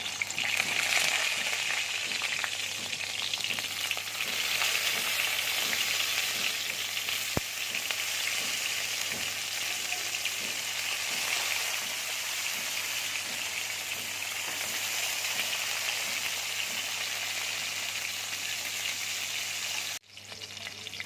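Vinegar-soaked sliced onions fry in hot oil with a steady, loud sizzle that holds for about twenty seconds, with a few faint stirring clicks, and then drops off sharply near the end.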